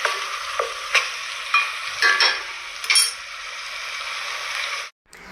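Chicken being stirred in a pot while it fries, with a steady sizzle and several distinct scraping strokes of the spoon in a loose rhythm, close up, ending abruptly.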